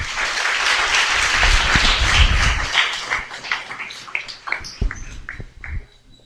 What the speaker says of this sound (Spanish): Un aplauso para los